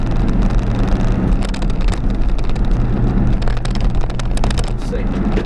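A 1991 Subaru Sambar kei truck, 4WD Super Deluxe, drives and turns on a wet, drizzly road, its small engine droning steadily with road and tyre hiss close by throughout, and some speech faintly mixed in.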